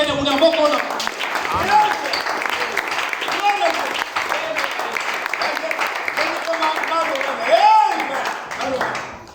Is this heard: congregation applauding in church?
yes